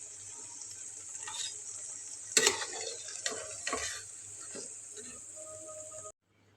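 Potato lollipops sizzling in hot oil while a spatula scrapes and lifts them out, steady frying hiss with a few clanking scoops near the end.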